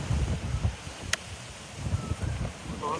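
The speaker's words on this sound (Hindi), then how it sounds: "बहुत तेज हवा है" Strong wind buffets the microphone outdoors, a low rumbling roar with gusty surges throughout, close and loud, with a faint brief tone in the background.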